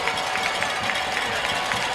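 A high school football crowd at a homecoming night game in College Station roars steadily in the stands, a broad sustained cheer with a commentator's voice running over it.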